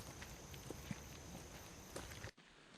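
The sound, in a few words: footsteps walking up a mountain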